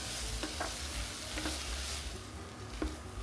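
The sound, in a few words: stir-frying onions with tomato paste in a pan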